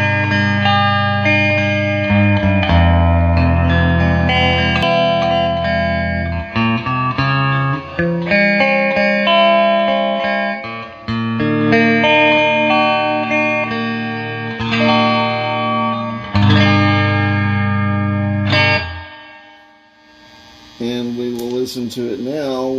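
An electric guitar plays through a Fender Twin Reverb amp with the reverb, tremolo speed and tremolo intensity each set to 4 and the master volume at 4. Sustained, wavering notes and chords ring loud and continuous before a brief pause and a final strum.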